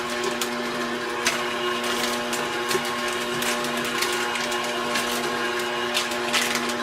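An electric mixer slowly stirring hazelnut chocolate chip cookie dough, a steady mechanical whir with a constant hum and faint irregular knocks, heard alone and close.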